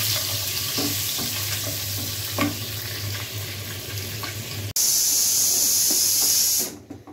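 Egg korma sizzling and frying in a pan, a steady loud hiss with stirring scrapes, the tone shifting partway to a brighter, harsher sizzle before cutting off near the end; no talking.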